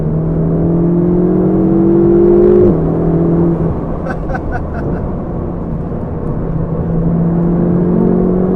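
A Ferrari 488 GTB engine drones steadily, its pitch rising under load, then dropping sharply at a gear change before climbing again, with a brief burst of clicking midway, heard close from inside the car.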